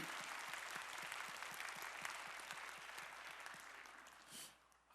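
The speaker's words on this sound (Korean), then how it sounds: "우리의 찬양을 받으실 주님께 영광의 박수 올리겠습니다" A church congregation claps together after choir praise during a Sunday worship service. The applause is dense and continuous, heard from a distance, and fades away near the end.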